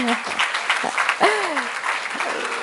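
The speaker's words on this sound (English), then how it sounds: "so let us give an applause to all of us on a woman's Day." Audience applause for Women's Day at a university celebration, a steady wash of clapping throughout with voices and a rising vocal exclamation cutting through midway.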